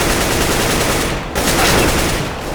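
Rapid gunfire from a first-person shooter game rattles almost continuously, dense and loud, with a brief dip in the middle before the shooting resumes.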